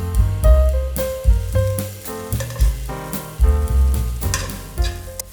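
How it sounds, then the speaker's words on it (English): Guanciale browns in a pan for pasta Jonica at medium-low heat, a close, continuous sizzle and spatter with bright crackles, pulsing as it's stirred, while music plays underneath and no one speaks. "ma prima ovviamente ci rosoliamo il nostro guanciale"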